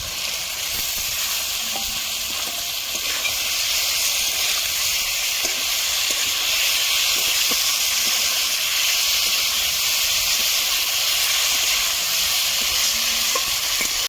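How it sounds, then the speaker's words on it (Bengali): A fried egg with tomatoes cooks in a pan, giving a steady, even sizzle and hiss that holds at one level throughout, with a few faint clicks scattered across it and no talking. "দুই মিনিটের জন্য ভেজে দেবো"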